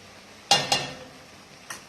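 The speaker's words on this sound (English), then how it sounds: "give that a stir in. Start to cook this garlic off" Garlic paste cooking in a pot for chicken soup as it is stirred: a couple of quick utensil scrapes and clinks over a faint sizzle, then one more light knock.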